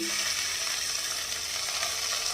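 Spice paste fries in an uncovered pan, a steady, moderately quiet sizzle with soft bubbling that holds evenly throughout, with no voices.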